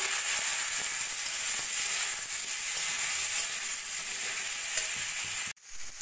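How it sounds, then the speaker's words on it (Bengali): Jackfruit sautéing in a pan with salt, cumin and ginger-garlic paste gives a loud, continuous hissing sizzle with faint stirring scrapes, then cuts off abruptly just before the end. "ভালো করে মশলার সঙ্গে কষিয়ে নেব।"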